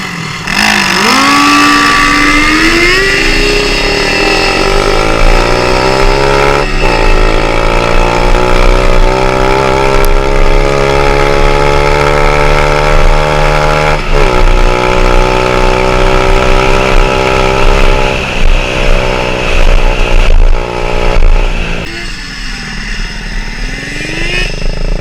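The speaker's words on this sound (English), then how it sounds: "I decided to take the pit bike out" Pit bike motorcycle engine at a mini bike racing event, loud and close, revving up through rising pitch sweeps and then holding a strong steady drone while riding, easing off near the end.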